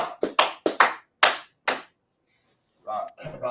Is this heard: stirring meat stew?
no